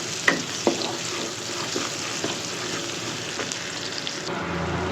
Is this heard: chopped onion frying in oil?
yes